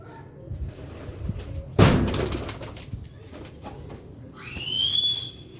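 Pigeons on a rooftop in Sialkot give low, soft coos, broken by a sharp bang near the start and a brief whistling call toward the end.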